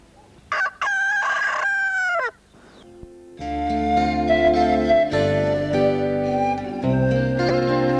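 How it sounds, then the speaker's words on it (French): A rooster in Villefranche-du-Périgord crows loudly in one long, clear cock-a-doodle-doo near the start, with music playing behind and after it. "Renato est un coq, il vit à Villefranche du Périgord et son voisin, un musicien de son état, ne peut plus supporter ses vocalises"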